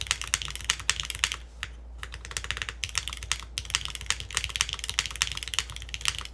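Brisk, steady typing on a Neo98 mechanical keyboard fitted with granite switches and PORON gaskets, a dense run of close, crisp keystrokes with one brief pause, no voices.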